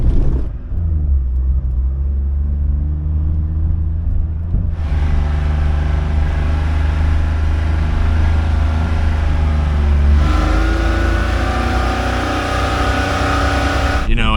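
The engine of a small 4x4 minivan drones loudly and strains while driving in sand in a low gear, with a steady rumble and a rising pitch shift midway, under someone talking.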